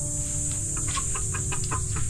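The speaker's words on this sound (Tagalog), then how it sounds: "Ito, may mga alaga din tayong manok." Native chickens cluck in short, scattered bursts over a steady background hum, fairly close and moderately loud, with no talking.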